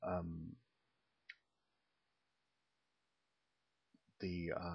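A single sharp computer mouse click sounds once in near silence, with someone speaking just before and again after it.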